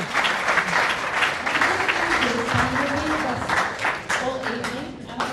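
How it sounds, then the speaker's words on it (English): Dinner-meeting audience applauding steadily and loudly throughout, dense clapping with scattered cheers and voices mixed in near the end. "Ladies and gentlemen, can you give a huge round of applause?"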